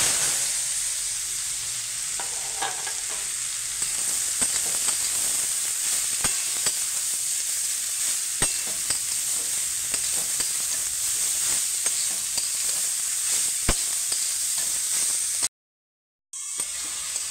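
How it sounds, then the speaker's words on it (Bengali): Papaya pieces fry in hot oil in a wok on a gas stove, giving a steady, loud hiss of sizzling with scattered sharp pops and crackles throughout, broken by a short silent gap near the end. "আমার আর একটু ভাজা হবে পেঁপেটা।"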